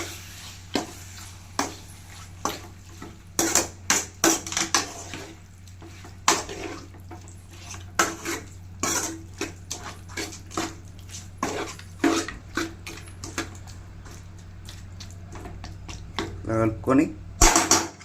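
Chicken curry being stirred in a pot with a utensil, giving repeated irregular scraping and clinking strokes at close range over a low steady kitchen hum, with water-like sloshing mixed in.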